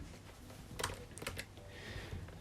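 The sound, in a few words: typing on a computer keyboard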